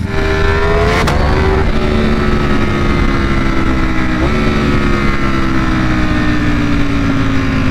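A 2021 Ducati Panigale V4 SP with a flashed ECU revs hard close by, its loud engine note sweeping upward and then holding a steady high drone through a shift, with no talking.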